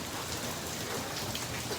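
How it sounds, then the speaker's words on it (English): Steady rain falls with a continuous broadband hiss and patter on surfaces outdoors at a hostel in Kumaka, Region 1, alone without voices for under two seconds. "The rain has let up a little bit."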